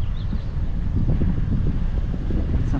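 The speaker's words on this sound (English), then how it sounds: "Kind of windy today." Wind blowing during a walk along residential streets, a steady, low broadband rush buffeting the microphone throughout, with no speech.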